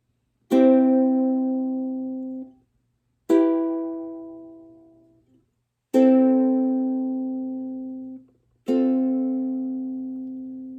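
Four claw-plucked chords on a ukulele, thumb and three fingers striking all strings at once and left to ring, separated by short pauses.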